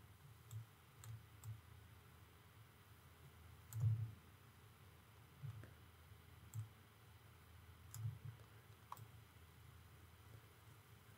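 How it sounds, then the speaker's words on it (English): A computer mouse button gives faint, sparse clicks at irregular intervals over a quiet room hum, one of them slightly louder than the others. "and I click the button again."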